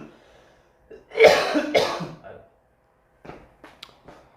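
A couple of harsh, throaty coughs close to the mic, followed by a few soft, faint sounds and quiet pauses.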